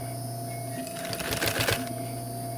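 A sewing machine stitches a custom floor mat in a short, close burst of rapid mechanical clatter that swells in the middle and fades, over a steady background hum.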